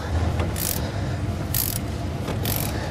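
A wrench ratchets on the injector cup sleeve puller of a 6.0 Powerstroke diesel, three distinct clicking strokes spaced about a second apart, close up over a steady low background hum.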